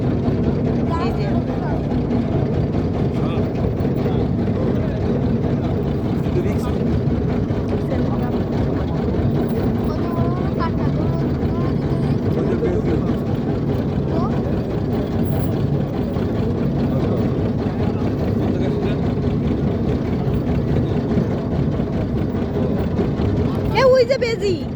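A small motorboat engine drones steadily on a narrow canal beside a river, loud and continuous throughout, with speech over it.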